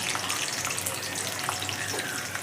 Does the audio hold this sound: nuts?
yes